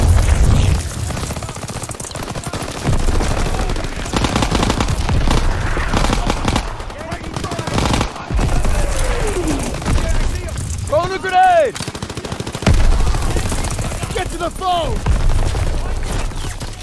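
Battle gunfire from the video game Call of Duty WWII, set in Aachen, Germany: dense, continuous bursts of rifle and machine-gun fire with booms, loud and sustained, while soldiers shout over the combat.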